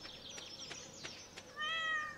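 A cat meows in the farming game Stardew Valley, first as a few faint ticks and chirps, then one clear, drawn-out meow near the end, with no talking.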